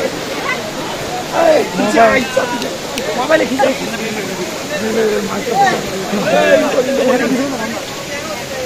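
Water rushes steadily at Kalu waterfall in Maharashtra, a broad hissing wash beneath people talking and calling out close by.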